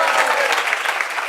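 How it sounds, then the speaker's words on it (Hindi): Brief burst of dense audience clapping at a Hindu temple gathering honouring a donation, steady and fairly loud throughout the short stretch. "सब जोर से ताली बजाओ"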